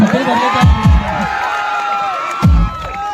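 An audience at a comedy event cheers and whoops in bursts, with high shouts rising over a steady crowd din; no clear clapping stands out.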